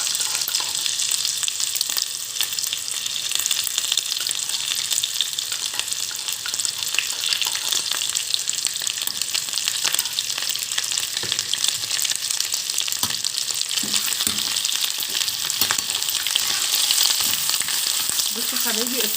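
Garlic sizzles and fries steadily in a pan for Alexandrian-style trotters with fatta, loud and close, with a few faint stirring scrapes near the end.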